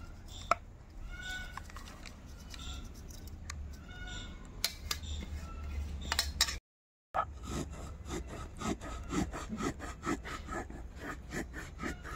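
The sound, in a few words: soaked rice being ground on a grinding stone (shil-nora)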